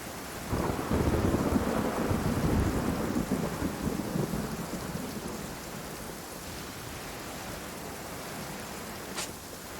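In the video game Genshin Impact, a deep rolling thunderclap rumbles loudly and slowly fades into a steady wash of rain, with a faint tick near the end.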